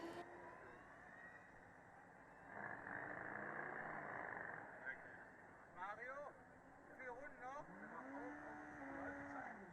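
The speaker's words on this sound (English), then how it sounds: "we can hear Kansas revving in the background" A Formula Student race car at an endurance event revs in the background, with sharp rising and falling engine sweeps toward the end over a steady crowd and track rumble.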